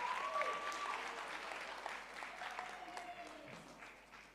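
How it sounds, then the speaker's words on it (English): Audience applause at a conference dialogue event, a steady, moderate patter of clapping hands heard from a distance through a room, fading slightly toward the end. "Can you give him a round of applause?"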